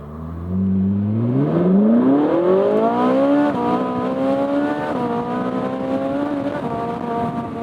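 A convertible sports car, a Ferrari 458 Spider or Porsche Boxster Spyder, revs hard under acceleration, its engine note climbing steeply then holding a high strained pitch through an upshift, loud and close with no talk.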